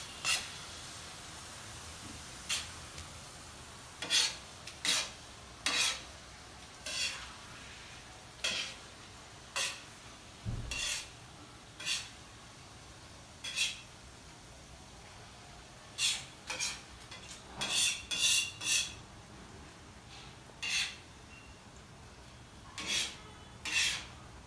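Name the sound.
stirring and mixing Surti gotalo after adding coriander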